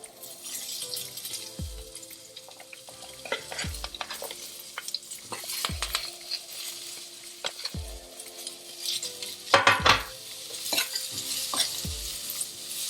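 Sliced medium-sized onions sizzle steadily in oil in a pan while a utensil stirs them in repeated scraping strokes with occasional metallic clinks, cooking for pudina pulao, close and clear with no talking.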